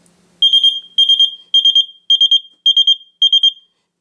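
An InstaPark IN07A water leak detector alarm goes off nearby in six loud bursts of piercing high-pitched triple beeps at an even, rapid pace, with no voices.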